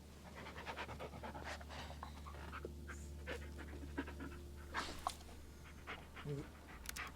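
A dog pants steadily in the horror video game Blair Witch, its quick breaths running nearby through the whole stretch, with a few faint whimpers and small rustling sounds over a low hum.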